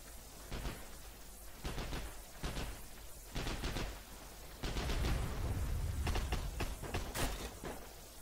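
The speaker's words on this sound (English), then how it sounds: "That was an explosion. I don't know if that was a vehicle or a grenade." Gunfire and explosions in an online multiplayer shooter game: repeated sharp bursts of shots and crackling blasts, with a sustained louder explosive rumble midway, heard alone without talk.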